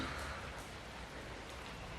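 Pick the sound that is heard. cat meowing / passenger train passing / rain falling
rain falling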